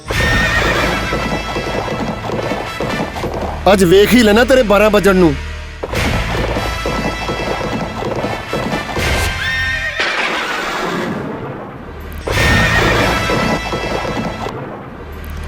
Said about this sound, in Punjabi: ਘੋੜਿਆਂ ਦੇ ਟਾਪਾਂ ਸੁਣਾਈ ਦੇਣ ਲੱਗੀਆਂ ਨੇ